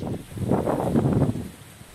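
Wind gusting through the branches and leaves of an olive tree, a steady broadband rush that swells in the middle and eases toward the end, close to the microphone.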